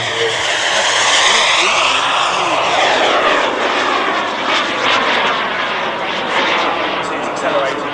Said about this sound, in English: It's accelerating now. I love the way you see the afterburner just flick at the top there.